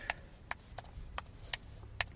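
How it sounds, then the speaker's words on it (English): Someone types on a computer keyboard in quiet, sparse clicks, about seven or eight separate keystrokes at an uneven pace over a low background hum, close but soft. "I'm typing on the keyboard"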